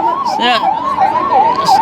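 An ambulance siren wails loud and close, its pitch sweeping up and down in a steady repeating cycle, with faint road traffic beneath.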